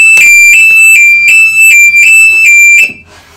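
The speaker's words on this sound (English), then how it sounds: "That's the sleep alarm that Alex has on board to make sure that he" An electronic sleep-timer alarm on board a boat beeps loudly in a rapid repeating pattern, about eight sharp high tones in a row, then stops.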